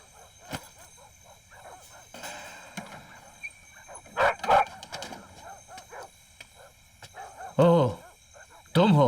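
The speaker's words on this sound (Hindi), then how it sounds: "इसीलिए कुत्ते इतनी जोर जोर से भौंक रहे हैं" Several dogs bark and yip loudly in short bursts, with bigger barking outbursts near the end, mixed with background sound and some voices.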